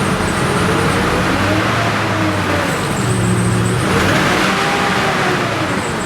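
V8 Chevrolet Trailblazer bought cheap, engine revved while parked, giving a steady loud rumble with a rising and falling throttle note that stays close and continuous throughout.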